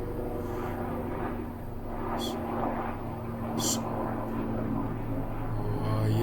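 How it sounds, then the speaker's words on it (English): A very loud airplane flies low overhead, its deep, steady roar filling the whole stretch while someone talks over it. "That was the loudest airplane."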